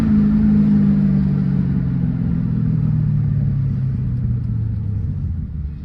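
A 2001 Ford Mustang Bullitt engine revs hard and then slowly winds down, a loud deep rumble with falling pitch that fades toward the end.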